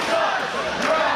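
Wrestling arena crowd at an IWC event shouting and jeering in a loud, continuous roar that fills the whole moment with no pause.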